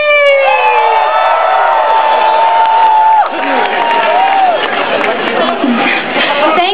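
A large crowd at a Diablo 3 midnight launch event cheers and whoops loudly, with shrill whistles and rising shouts, the roar dipping briefly midway before swelling again.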